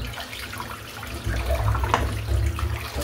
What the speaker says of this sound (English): Just rinse the sink out